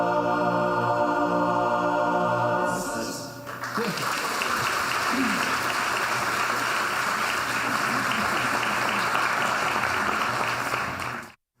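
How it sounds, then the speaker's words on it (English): An audience applauds a live Christmas chorus concert at the Hawaii Theatre, steady dense clapping that swells after a final sung note and continues for several seconds before cutting off. "Yes, love that live applause"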